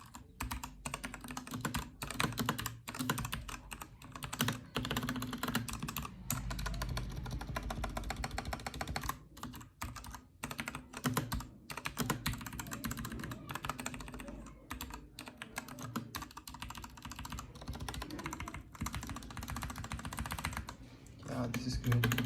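Rapid clacky keystrokes on an RK84 mechanical keyboard, a dense continuous typing run heard up close with no talking.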